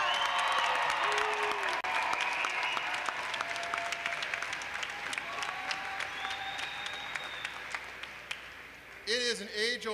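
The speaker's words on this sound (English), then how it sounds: "Come on, big round of applause." Louder applause from a university graduate commencement crowd, many hands clapping with whistles and cheers, gradually fading before a voice comes in at the end.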